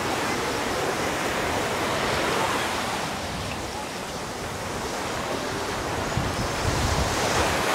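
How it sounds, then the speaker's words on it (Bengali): Heavy sea waves crash and roar on a rocky beach on Neil Island in the Andamans, making a loud, continuous wash of surf with wind buffeting the microphone and no talking. "রীতিমতো সমুদ্রের গর্জন শোনা যাচ্ছে"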